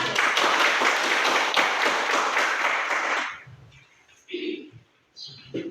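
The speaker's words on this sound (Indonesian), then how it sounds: "tepuk tangan untuk kelompok 1" Applause from a classroom audience for a group that has just presented, a dense burst of clapping lasting about three seconds before it stops abruptly and quiet talk follows.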